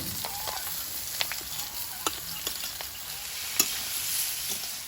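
Ridge gourd with green chilli goes into a pan of already fried potatoes, giving a steady, close hiss of frying broken by scattered crackles and a few sharp pops.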